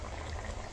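A pot of fish and radish curry boils with a dense, steady bubbling and gurgling that stays even and close throughout the short moment.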